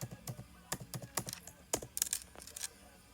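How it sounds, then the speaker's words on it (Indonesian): Quick bursts of keystrokes on a computer keyboard as numbers are entered into accounting figures, crisp clicks in small irregular clusters, close and fairly quiet with no talking. "Kita ketik 36 juta."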